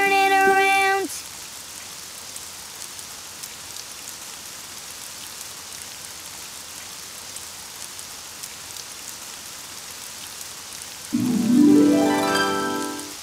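Steady rain hisses in the Daniel Tiger's Neighborhood children's game, a soft continuous wash framed by short bright musical tones at the start and a rising melodic flourish near the end.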